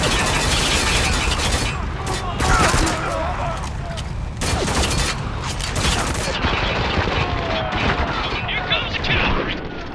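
Sniper and other gunfire in Spec Ops The Line, a war shooter game: dense, loud volleys of shots and booming blasts fill the whole stretch with barely a pause, under a speaking voice.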